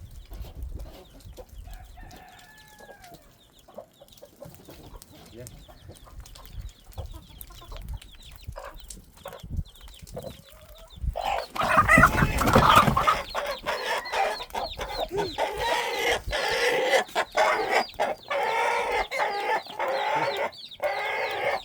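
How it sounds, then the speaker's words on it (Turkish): Chickens and roosters cluck and call near a backyard coop where new winter chicks have arrived, sparse at first, then a dense, loud burst of flapping and squawking about halfway through that continues. "Horozlara dikkat et vurmasınlar."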